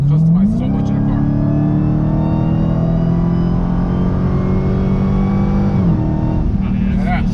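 A car engine climbs in pitch, holds a steady drone and then drops as the transmission shifts, sounding close and loud from inside or beside the vehicle, with people talking over it.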